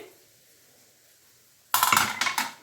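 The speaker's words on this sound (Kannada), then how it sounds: "ಈಗ ಸ್ಟೀಮ್ ಹೋಗಿದೆ ಕುಕ್ಕರ್ ಓಪನ್ ಮಾಡ್ತಿದ್ದೀನಿ" Sudden metallic clatter of a pressure cooker lid being opened after the steam is released, a short burst of clinks and rattles following near silence, close and fairly loud.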